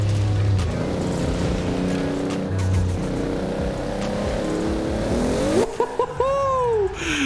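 Hot Wheels 2JetZ car in the Forza Horizon 4 racing game, its engine droning and revving through shifting tones before rising and falling in sharp sweeping whines near the end.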